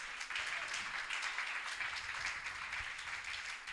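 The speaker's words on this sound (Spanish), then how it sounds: "¿Le puede dar palmas de alabanza?" A church congregation claps in praise during a sermon, giving a steady, fairly soft wash of many hands heard from a distance, with no talk over it.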